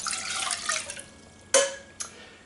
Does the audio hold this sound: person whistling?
no